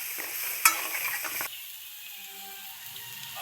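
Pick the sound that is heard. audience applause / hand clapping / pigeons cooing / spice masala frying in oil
spice masala frying in oil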